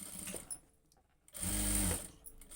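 A sewing machine stitches a line along fabric lining in a short, quiet burst of rapid mechanical whirring after softer ticking and handling noises.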